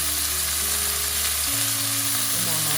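Scallion-wrapped black pork rolls pan-frying after being flipped, a steady, close sizzle of hot oil with a low background hum.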